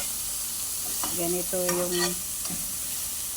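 Vegetables being sautéed in a pan for a light diet meal, with a steady sizzle and several short scraping stirs in the middle, close by; a brief spoken phrase comes at the start.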